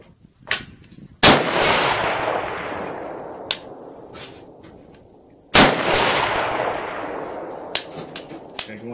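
Two loud rifle shots at an outdoor range, each a sharp blast followed by a long rolling echo, with light clicks and bolt or handling sounds between them.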